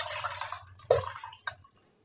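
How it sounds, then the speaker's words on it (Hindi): Strained tamarind water is poured into a cooking pot, giving a short splashy pour with a few brief spills that taper off into quiet dripping. "उसके बाद पानी को इस तरह छान के तो पानी जो है उसके अंदर ऐड करेंगे"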